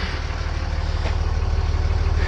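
A Cummins turbo diesel idling after an engine swap, a steady deep throbbing rumble held close and loud without a break, no voices.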